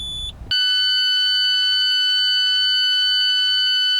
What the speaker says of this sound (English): Things like the fasten your seatbelt warning or your turn signal can really affect how you enjoy your car.